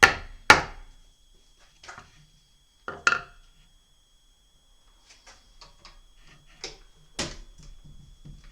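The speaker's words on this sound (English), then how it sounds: "What I do need is my little hammer." A small hammer taps a fret into the neck of a custom acoustic guitar: a few sharp, close knocks spaced irregularly, with quieter light taps and handling clicks between them and no talking.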